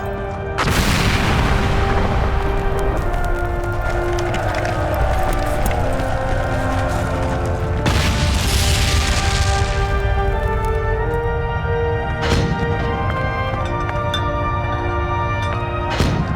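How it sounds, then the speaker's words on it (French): Artillery shells burst in a First World War battle, loud heavy booms landing one after another over a dense, continuous rumble of gunfire. "Deux obus arrivèrent coup sur coup, qui faillirent tout emporter."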